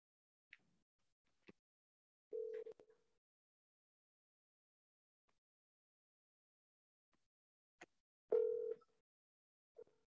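A telephone call rings out while waiting for someone to pick up, giving two clear separated ring bursts with near silence and faint clicks between them.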